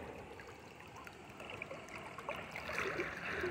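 Water flowing steadily in a river around a rock, a continuous rushing wash that swells slightly louder toward the end, heard alone.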